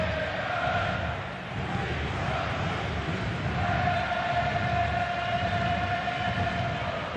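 Timbers Army supporters filling a Portland stadium with loud, sustained cheering, a thick roar that swells and dips over several seconds while a droning horn tone holds through the back half.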